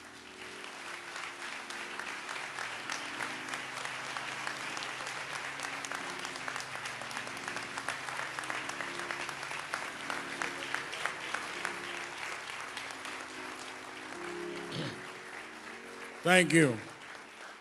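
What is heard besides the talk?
audience applause for a reverend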